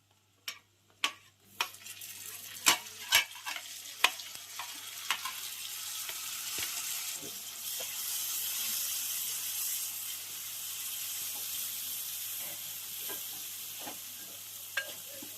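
Onions and tomatoes fry in a pan for fish curry, opening with a few sharp clinks of stirring, then settling into a steady, close hiss of sizzling oil with occasional ticks.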